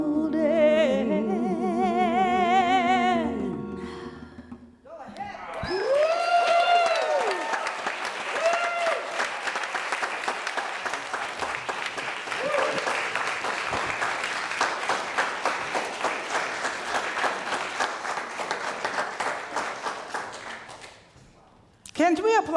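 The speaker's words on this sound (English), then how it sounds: "Can we applaud that again?" A church congregation bursts into loud, sustained applause right after a sung song with bongos ends, the dense clapping filling roughly seventeen seconds before it tapers off, with voices mixed in near the start.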